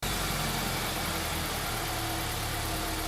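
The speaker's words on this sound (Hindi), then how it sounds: "उसके पुराने इंजन की आवाज सुनसान सड़क पर गूंज रही थी।" An old auto-rickshaw engine runs on a deserted road at night, a steady, loud mid-pitched putter and rumble holding continuously throughout with no voices.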